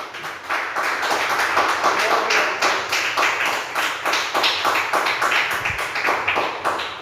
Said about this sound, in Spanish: ¿Cuántos le dan un aplauso al Señor en esta mañana?